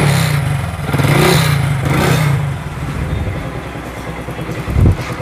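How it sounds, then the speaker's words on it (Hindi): A Hero Glamour FI motorcycle fitted with a carburettor idles and revs close by, its engine steady with low rumbling and a brief louder burst near the end. "एकदम बाइक स्टार्ट हो गया है, ठीक है।"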